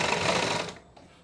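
Sewing machine stitching a suit sleeve, heard as a dense, steady mechanical whir that runs loud and close for most of the moment, then cuts off abruptly into near quiet.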